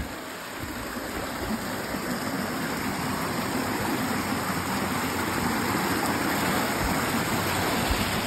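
A waterfall deep in a forest roars in a dense, continuous rush of falling water, loud and close, steady from start to finish with no voices.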